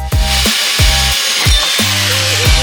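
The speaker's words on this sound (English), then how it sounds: "Then we stripped the steering column down and marked exactly where we needed to cut and began expertly cutting" Sawing through the steering column pipe of a Lamborghini supercar being rebuilt with a rotary engine: a power saw cuts in repeated close, loud strokes with deep rhythmic bursts, and the blade snags and pauses between passes.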